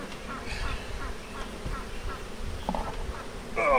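A good-sized swarm of honey bees buzzes steadily as a dense, close hum throughout, with brief rustles and handling noises and a sharper burst near the end.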